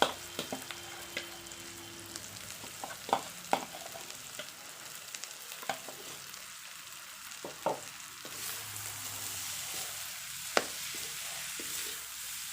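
Boiled potatoes fry in a pan with onion and garlic, giving a steady soft sizzle broken by scraping clicks and taps as they are stirred, up close and with no voices.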